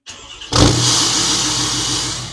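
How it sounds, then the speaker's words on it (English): A pickup truck's tuned, emissions-deleted 6.7 Power Stroke diesel engine cold starts, cranking and firing, catching with a loud roar, then settles into a steady, rumbling, slightly ticking idle nearby. "I'm gonna cold start this truck, and you guys are gonna hear the next thing"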